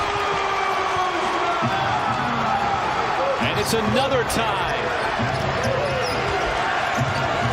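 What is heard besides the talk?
Washington DC basketball arena crowd cheering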